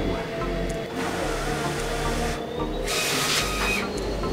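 A large-format printer powers up and runs, giving a close, steady mechanical hum with layered whirring tones and a few brief hissing surges as its parts move.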